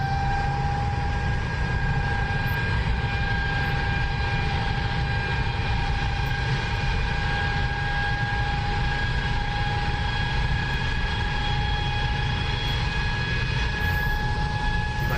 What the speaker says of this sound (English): Nice little taxi going here, not too crazy fast.